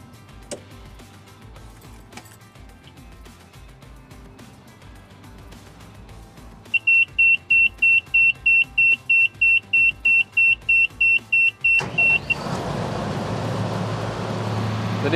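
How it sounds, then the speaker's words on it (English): A Keestrack B4 jaw crusher is switched on: a run of about a dozen sharp, evenly spaced electronic beeps sounds over a low idle hum, and then the engine catches with a sudden loud, broadband rumble that keeps going to the end. "The first step is to turn the machine on."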